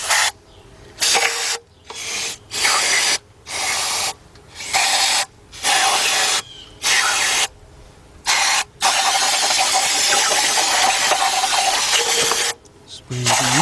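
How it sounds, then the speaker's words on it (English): Brake cleaner is sprayed into carbon-filled holes in the 3.4 engine of a 2004 Chevy Monte Carlo during intake manifold and head gasket work, heard as about ten loud, close hissing bursts separated by short pauses. "Now I'm going to go over one more time with some brake cleaner. And what I'm doing is spraying some inside the holes."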